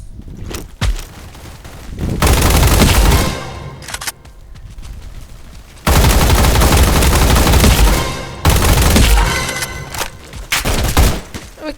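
Bursts of automatic gunfire in a Roblox combat arena game, loud and dense, firing in long sustained volleys broken by brief pauses, with no talk over it.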